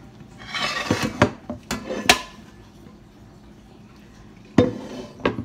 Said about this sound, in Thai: we're gonna put it back in the pot with drizzle of olive oil that way the noodles don't stick together